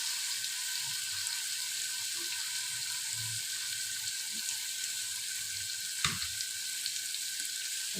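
Sardine roe sautéing in a pan gives a steady, close sizzle, with soft stirring bumps and a brief clunk near the end.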